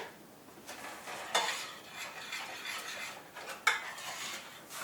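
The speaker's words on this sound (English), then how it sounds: "Soon as the porridge comes up to simmer, in go the dates." Dates dropped into a pot of simmering porridge, with soft plops, stirring and faint metal-on-pot clinks over a steady low bubbling hiss, two sharper knocks standing out, close by and without talk.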